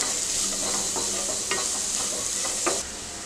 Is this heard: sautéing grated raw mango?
yes